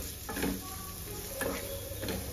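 Spice masala stirred in a pan over low gas, with soft scraping strokes and a gentle sizzle repeating every second or so under steady background hiss.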